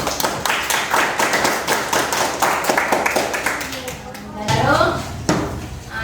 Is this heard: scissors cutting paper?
no